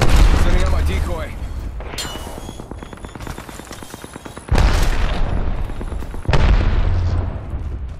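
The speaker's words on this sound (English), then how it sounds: "Look out, grenade." A grenade goes off in a squad-based shooter video game, with booming blasts and a rapid rattle of gunfire between them, loud and close, under a voice calling out.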